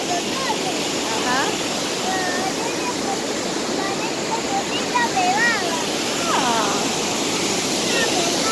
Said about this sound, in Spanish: Mira cómo está el agua, qué hermoso paisaje.